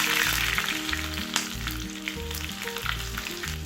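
Mustard seeds, a dried red chilli and shallot sizzle in hot coconut oil for a Kerala fish curry tempering, a steady close crackling fry with a low background hum throughout.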